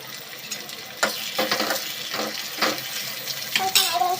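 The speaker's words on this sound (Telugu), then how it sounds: "కొంచెం 5 నిమిషాలు ఫ్రై చేయాలి." Onion, dried red chillies and tomato fry in a pan for a tempering, a steady close sizzle broken by repeated stirring scrapes and clinks of a spoon.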